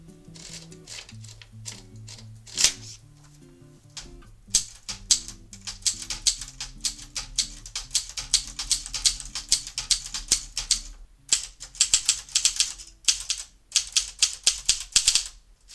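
A freshly repaired Tippa typewriter types a test, its keys striking in rapid, uneven bursts of sharp clacks close up, with brief pauses between runs and no voices.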